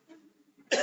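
A single sharp cough bursts out at the end, loud and close, after a stretch of quiet low murmuring.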